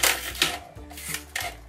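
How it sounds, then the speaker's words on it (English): Scissors or a craft knife cutting through a thin plastic water bottle, a few crisp crackling snips spaced about half a second apart, close and fairly quiet. "now we're going to fold this and just cut a straight line to line everything up"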